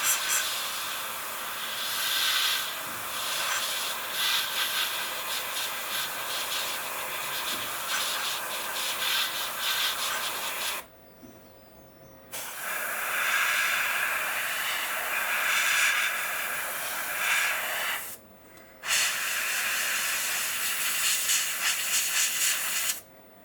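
Airbrush spraying Tamiya green paint onto a scale model kit, a steady loud hiss in long bursts broken by two short pauses, with no talk.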